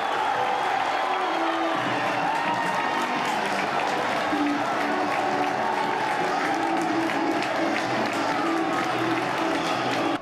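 Football crowd at an amateur Italian league match applauds a Brazilian player, with continuous dense clapping and crowd noise at an even level for the whole stretch.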